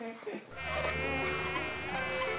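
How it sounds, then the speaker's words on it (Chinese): Cartoon mosquitoes whine in a continuous high, thin buzz that sets in after a brief quiet moment and holds steady and fairly near. "蚊子怎么那么多啦？"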